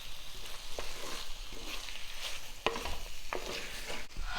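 Mutton fry with coconut slices and coriander leaves is stirred in a sizzling pan, a steady frying hiss broken by scraping spoon strokes and a few sharp clinks, close and fairly quiet.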